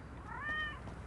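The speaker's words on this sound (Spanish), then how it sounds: "Hay un gato por aquí." A cat in the video game GTA V lets out a single short, faint meow over a low background hum.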